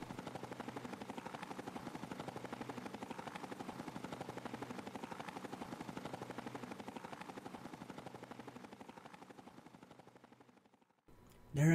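A Vertibird aircraft in Fallout: The Frontier flies with a steady, rapid rotor chop throughout, fairly even and close, fading slightly before cutting off near the end.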